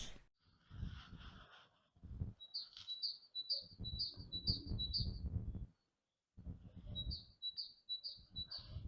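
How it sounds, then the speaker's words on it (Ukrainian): Small birds chirp in quick repeated bursts of high notes outdoors, over rustling and handling noises close by. "Пташки співають."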